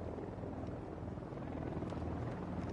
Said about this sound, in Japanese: なんかまたヘリの音する。